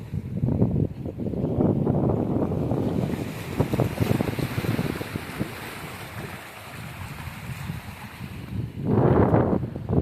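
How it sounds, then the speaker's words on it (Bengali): Big sea waves at Digha roll and crash under heavy gusting wind that buffets the microphone, with a loud rush building again near the end. "মাঝে মাঝে কি বড় বড় ঢেউ আসছে।"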